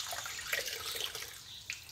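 A cloth is soaked in a whitewash mixture for finishing wood, giving soft, faint watery sloshing and dripping with small splashes, no voices.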